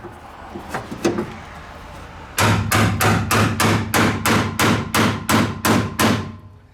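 A pry bar knocks a part off a junk truck: a rapid series of about a dozen loud metallic knocks and thuds close by, following a few lighter taps, each strike ringing briefly.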